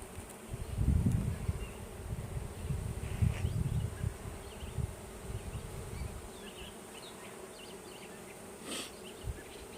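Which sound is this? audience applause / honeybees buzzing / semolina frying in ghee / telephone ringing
honeybees buzzing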